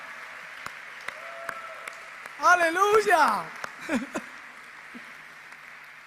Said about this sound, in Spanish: Que dé un aplauso grandote ahora.